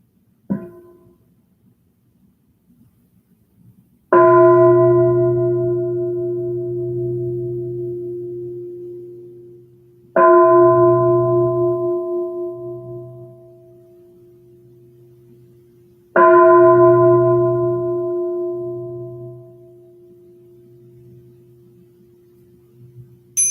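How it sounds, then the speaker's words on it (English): Three meditation bell strikes spaced about six seconds apart, each a clear ringing tone with a long, slowly fading resonance and a low hum beneath, with no talking. "let's begin by hearing 3 sounds of the bell"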